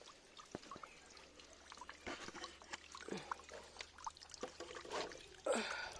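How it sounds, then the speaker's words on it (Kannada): Water is poured into a container while mint plants are set up, a soft uneven trickle and splash with scattered knocks and clatters, fairly quiet and close. "ನೋಡಿ ನೀರನ್ನ ತುಂಬತೀಗ"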